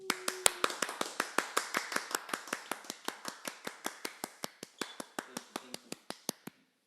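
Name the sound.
hands clapping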